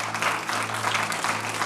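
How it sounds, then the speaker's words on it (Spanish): A church congregation applauding, a dense, steady patter of many hands clapping together at a moderate level, with no gaps throughout the short stretch. "Entonces, dele ese aplauso fuerte a Cristo."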